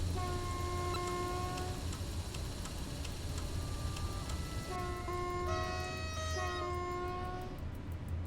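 In the SimRail train game, a player-driven train passes by, sounding its horn in several long two-tone blasts over a steady low rumble of rolling wheels, with faint ticking clicks throughout.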